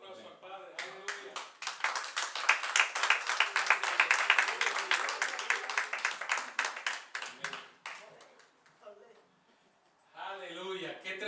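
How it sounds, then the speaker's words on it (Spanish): A church congregation claps for a visiting priest during a Spanish-language service, a swelling burst of clapping that peaks midway and fades, followed by someone speaking. "Denle un aplauso al Padre."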